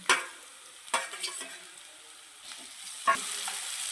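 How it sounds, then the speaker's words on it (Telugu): Small-cut potato pieces frying in a hot oil tempering for poha give a steady close sizzle, broken by a few sharp scrapes and clinks of stirring. "ఇది ఇలా ఫ్రై కానిద్దాం"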